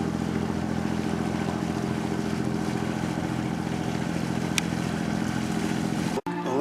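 Engine of the HMS Sutton boat arriving, a steady loud low droning hum with constant tonal layers throughout, ending in an abrupt cut.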